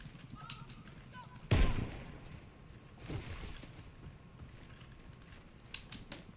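Gunfire from a Krazy Horse gun in the video game Warface: two sharp bursts a couple of seconds apart, the first louder, over a quiet background.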